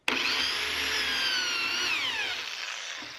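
A power drill whines steadily at close range for about three seconds, its pitch sagging slightly near the end as it bores a pocket hole into a wooden board.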